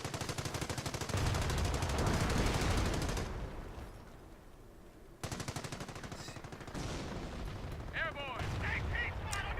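MG42 machine gun fire in a World War II strategy game comes in rapid, dense bursts with a brief lull partway through, then more shooting joined by scattered other battle sounds.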